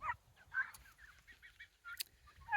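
Chickens outdoors in a garden coop give a few short honking clucks and squawks, fairly close, with brief quiet gaps between calls.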